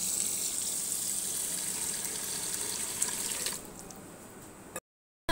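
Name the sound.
water poured into a bowl with sugar for mango squash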